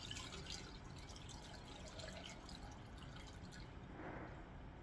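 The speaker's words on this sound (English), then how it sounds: "Pouring it in again." Water glass solution poured into a jar of eggs: a faint, steady trickle and gurgle of liquid filling the jar, continuous and close, with no talking.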